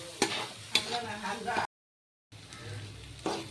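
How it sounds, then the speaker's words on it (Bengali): Soybeans sizzle in a pan while a utensil scrapes and stirs a few times, broken by a short silent gap. "এখন ভালো করে সোয়াবিনটাকেও ভেজে নেব"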